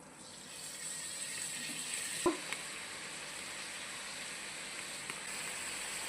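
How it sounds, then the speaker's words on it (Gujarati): Fenugreek leaves sizzle softly in a little leftover oil, a quiet steady crackle with a sharp clack partway through and a few small pops, no one speaking. "આ થોડું તેલ બચ્યું છે એમાં આપણે મેથી પકાવીશું।"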